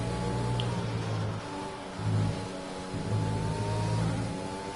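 Mercedes Formula 1 car in a racing game, its high engine whine revving hard, cut briefly by gearshifts and lifts, then climbing again, close and sustained, with no talk.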